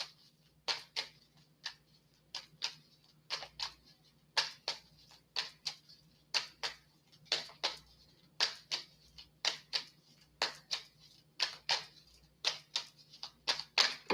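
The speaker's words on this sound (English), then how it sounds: "I don't have all day to shuffle." Tarot cards being shuffled by hand, a steady run of crisp, clicking riffles and flicks repeating in quick bursts, close and clear with no voices.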